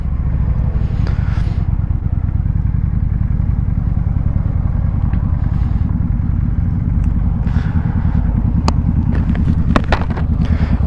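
A brand-new motorcycle engine, still in its break-in period, runs steadily and loud throughout with a rough low rumble and mild revving, a few sharp clicks near the end and no talk.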